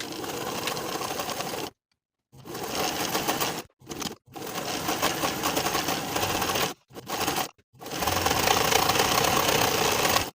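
A sewing machine stitches sweater seams in long, fast continuous runs, close and clear, broken by a few short pauses between passes.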